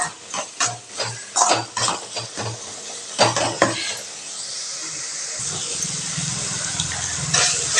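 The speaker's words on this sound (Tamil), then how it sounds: "இந்த மசாலாலாம் நல்லா எண்ணெயில் வதக்கி விட்டாச்சுங்க" Masala sautéing in oil in a pan, with rhythmic close spatula scrapes and clanks against the metal, then a steadier sizzle that rises as the stirring stops.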